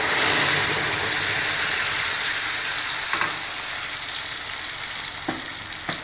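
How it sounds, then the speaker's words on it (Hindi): Tomato puree frying in about four spoons of refined oil in a pan for homemade pasta sauce, a steady loud sizzle throughout with a couple of faint clicks near the end. "इसके बीच में इस प्यूरी को मैं डाल दूंगी"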